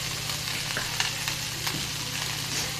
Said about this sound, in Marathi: हे बघा असं चांगलं मिक्स करून घेते मी